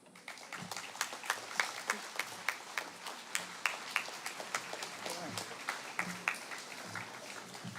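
Audience applause at a university commencement address, a steady stream of many hands clapping from a seated crowd, moderately distant and sustained throughout with no one speaking.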